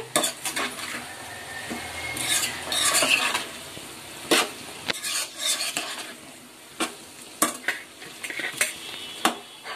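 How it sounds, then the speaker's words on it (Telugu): A utensil scrapes and clinks around a pan as salt gets stirred into an egg and potato curry, with irregular metallic taps over a soft sizzle, close and without talk. "ఈ ఉప్పు కూడా బాగా కలిసేలాగైతే తిప్పుకోవాలి"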